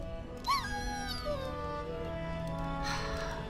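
A dog in Dragon Age Origins whimpers with a short, high, plaintive whine that slides downward, heard close and fairly soft against a steady background of game ambience and music.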